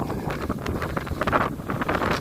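Strong gusts of wind sweep across an open mountain crest at Lincoln Mountain, buffeting the microphone with a loud, continuous rumbling roar that swells and eases.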